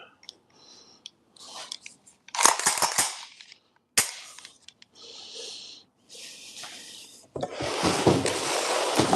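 Handling noises from a VFC LAR OSW airsoft rifle as its gas tube is worked loose: sharp clicks, scrapes and rattling in short, irregular bursts, fairly close, with no talking.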